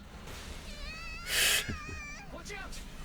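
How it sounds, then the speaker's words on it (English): A cat's meow rings out inside the video game Zenless Zone Zero, one loud bright burst standing above a low background while a person talks over the game. "Meow! That sound is unbearable!"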